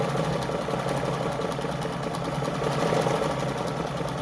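A Jones model 556 sewing machine stitches through fabric in a continuous, even, rapid chatter, close and fairly loud throughout.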